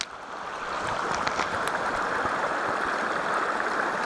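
A river pours over a waterfall after a hundred-year flood, giving a steady, close, full rushing roar with no pauses and no voices.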